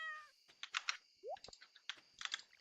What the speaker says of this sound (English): What a cute little meowy noise.